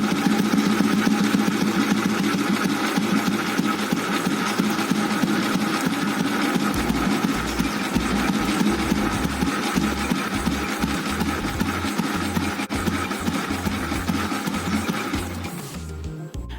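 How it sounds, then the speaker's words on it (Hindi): An old Bullet motorcycle with a VM-24 carburetor idles with a steady, rough chugging that grows uneven and lumpy, then cuts out abruptly as the air-fuel mixture screw is tightened. "जैसे ही मैंने एयर फ्यूल मिक्सर वाला जो स्क्रू था उसे मैंने जैसे ही टाइट कर दिया तो बाइक बंद हो गई"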